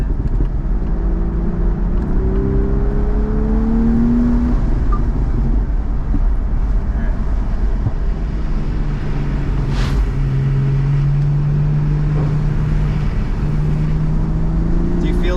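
A car accelerates on the race track at Lime Rock Park, its engine note climbing steadily and droning loud and continuous through the whole stretch, while a coach talks over it.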